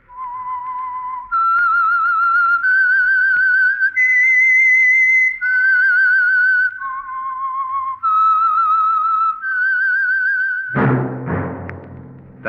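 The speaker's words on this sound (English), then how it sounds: "That whistle is your signal for the Signal Oil program, The Whistler." A lone whistler carries the theme tune of The Whistler radio mystery program, a clear, loud melody of sustained whistled notes stepping up and down in phrases, closing with a brief orchestral chord.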